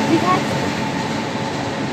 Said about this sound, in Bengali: এটা হচ্ছে দীঘার ট্রেন